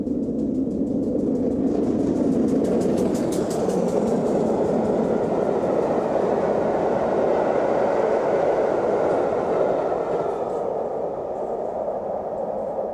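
A GWR King class steam locomotive rumbles past close by, a steady loud roar with rhythmic chuffing and clatter throughout, no voices.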